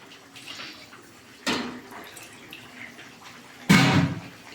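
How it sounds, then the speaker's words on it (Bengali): Water splashes into a pan in two sharp bursts to rinse out mustard and poppy seed paste, with faint trickling between the pours and no speech. "সর্ষে আর পোস্ত বাটাটা এটা একটু ধুয়ে একটু জল দিয়ে দিচ্ছি"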